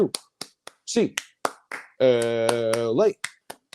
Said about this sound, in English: 8 clap time, baby.